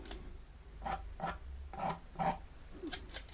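Short scraping strokes drawn through wet acrylic paint on a canvas landscape to suggest branches, a series of soft rasping scrapes coming in a loose rhythm, quiet and close.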